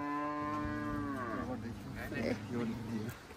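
A cow moos nearby, one long drawn-out low call that slides downward and fades, with light background rustle and faint talk.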